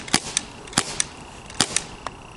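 Several sharp, snappy gunshot-like pops ring out in a quick uneven series, close by and fairly loud against a steady background hiss, with no talking.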